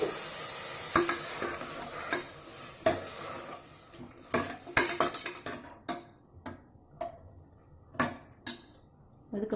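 Sautéing vegetables for hotel-style sambar rice are stirred in a pan after tamarind water goes in, with close, irregular spoon scrapes and metal clinks over a soft sizzle, no talking.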